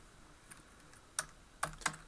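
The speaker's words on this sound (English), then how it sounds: "If I select that and I start typing Y0," A few soft keystrokes on a computer keyboard, three or four quiet clicks spread over a couple of seconds against faint background hiss.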